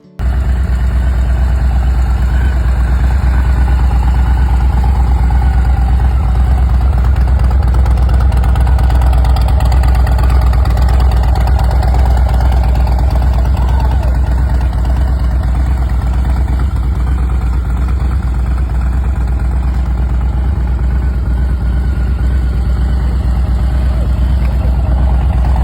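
A 2024 Harley-Davidson Low Rider ST idles steadily with a deep, low rumble, loud and near, holding an even tone for the whole stretch with no talk.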